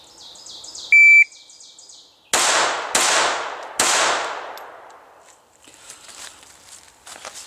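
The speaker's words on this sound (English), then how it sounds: "the total time it took to complete that string across the top there" Several sharp gunshots fired in a string on a shooting range, timed by a shot timer: a high electronic beep starts it, then three loud, close cracks about a second apart, each with a decaying echo, followed by faint outdoor ambience.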